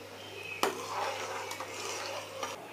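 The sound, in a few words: stirring rice for payesh in a pot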